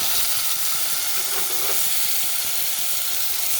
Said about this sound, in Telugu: ఇప్పుడు టమాటాలు కూడా వేసేస్తుంది